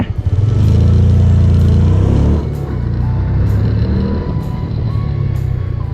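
A Honda PCX motorcycle slows using only the rear foot brake: a loud engine drone drops sharply after about two seconds, then settles into a lower, quieter running sound.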